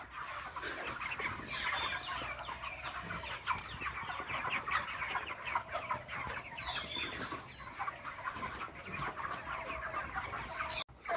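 Chickens on a poultry farm clucking and chattering continuously, a dense flock of overlapping squawks and calls at moderate distance, fairly faint with no talking.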